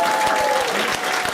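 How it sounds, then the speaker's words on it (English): Audience applause at a Black History Month celebration in 2018, a dense steady wash of many hands clapping close by, filling the whole short stretch with a faint whistle-like tone above it. "Give them a round of applause"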